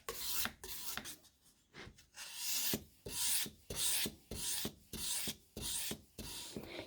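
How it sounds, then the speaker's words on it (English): A saddlery knife is sharpened on a 1200 grit stone with steady back-and-forth rasping strokes, about a dozen rhythmic scrapes close up with short pauses between them. "So I'm sharpening it at that sort of angle"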